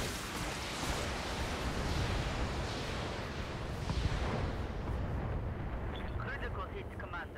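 An Atlas mech in the Battletech video game fires its weapons, a sustained roaring barrage of rumbling blasts that fills the scene continuously and then thins out toward the end, with a voice speaking over it.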